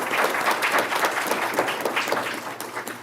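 An audience claps steadily at a State of the City address, a dense, even roll of many hands with no voices over it.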